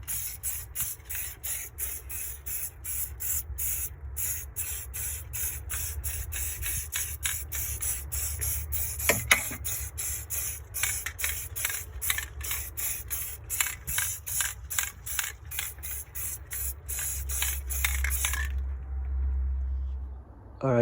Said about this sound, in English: we'll be hitting it with a second coat